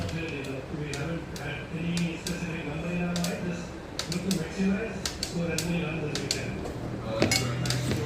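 A knife spreads Amul butter across bread with repeated light scrapes and clicks of cutlery against a plate, and a person talks throughout.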